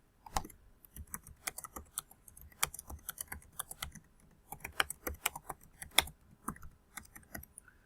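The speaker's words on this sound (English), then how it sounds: "So let me type a very basic question." Typing on a computer keyboard while entering a short question: irregular bursts of sharp, close key clicks with brief pauses between runs, steady and fairly quiet, with no one talking.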